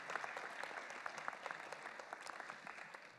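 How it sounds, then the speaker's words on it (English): A school audience applauds poetry recitation participants at a Poetry Out Loud event: a full, steady round of clapping heard from within the room, fading slightly toward the end. "Let's hear one final round of applause here for everybody who participated today."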